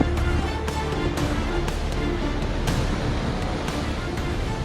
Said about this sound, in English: Massive waves, several meters high, relentlessly pounded the port of Maritime, Italy, each one crashing with deafening force